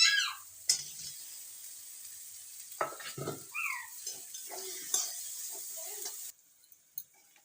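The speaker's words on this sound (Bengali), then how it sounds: "মশলা থেকে তেল আমার ছেড়ে গেছে, এবার আমি ওই ভাজা আলুটা দিয়ে দেবো।" Fried potatoes go into a pan of sizzling spice masala for an aloo paneer curry, giving a brief hiss followed by stirring clinks and scrapes of a utensil against the pan, with quieter sizzling between.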